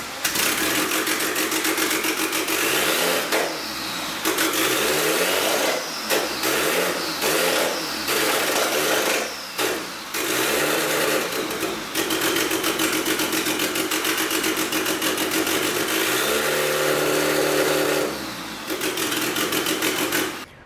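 A turbocharged Honda EK hatchback with a swapped F23 engine runs after starting, a steady idle that repeatedly stumbles and surges in short bursts before settling, loud and close with no talk.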